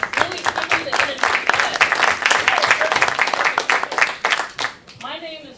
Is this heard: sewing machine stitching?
no